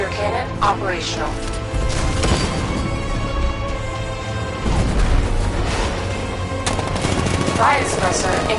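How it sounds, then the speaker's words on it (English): In the Batman Arkham Knight video game, a tank's 60mm cannon fires in dense, loud repeated blasts amid explosions, crashes and mechanical clatter, with a voice talking over the battle. "60mm cannon operational."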